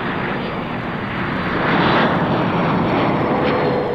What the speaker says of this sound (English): The most sizable contribution to the flying display, the Lockheed TriStar 500.